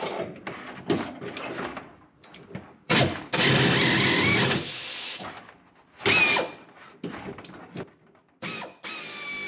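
Nut being unscrewed with a ratcheting tool on a 1966 Mustang, close bursts of clicking and rasping mechanical sound broken by short pauses, irregular and uneven in loudness.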